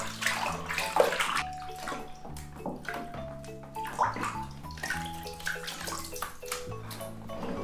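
Water splashes and trickles over a cat being rinsed during a bath for scabies and fleas. The pouring and dripping stays close and uneven, with soft sloshing and a faint tonal hum underneath.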